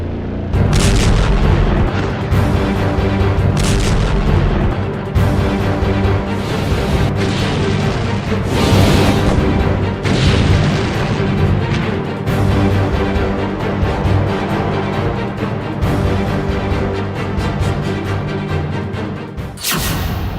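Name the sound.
missile launches and explosions in a war zone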